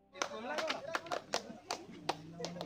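Hand claps ring out at an Odisha ring ceremony, a run of sharp, irregular claps up close, with voices chattering underneath.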